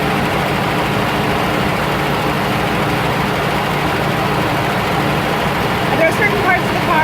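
A car engine idles steadily and close by, smoothing out as it warms after sitting through the winter, with a constant low rumble and faint ticking throughout.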